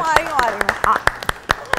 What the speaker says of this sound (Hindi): तालियां तो बजा लें राबिया की